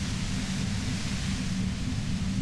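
Steady hiss of white noise from a radio in the video game Disco Elysium, a constant static wash heavy in the low range, loud and unbroken throughout.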